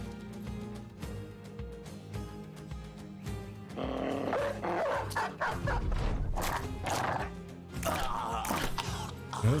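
Dogs bark and snarl in the medieval mercenary game Battle Brothers, with repeated growling, yapping bursts that pile up mid-fight over a backdrop of game music and clashing sounds.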